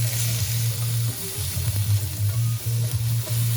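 Shredded cabbage stirred and frying in oil for a chow mein, a steady close sizzle with repeated scraping stirs and a low hum running underneath, no voices.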